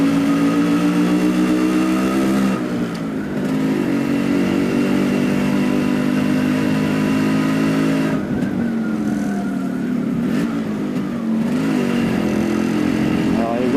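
A Yamaha RX100 motorcycle being ridden, its engine revving and accelerating loudly and continuously throughout, with pitch rising and falling through gear changes.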